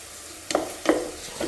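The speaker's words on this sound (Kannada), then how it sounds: "ಸೊ ಇದು ಸ್ವಲ್ಪ ಸಾಫ್ಟ್ ಆಗಲಿ ಟೊಮ್ಯಾಟೊ, ಅಲ್ಲಿವರೆಗೂ ಫ್ರೈ ಮಾಡ್ಕೊಳ್ಬೇಕು." Tomatoes fry in a pan with a soft sizzle, and two or three quick scraping strokes of a spatula land close by over the short span.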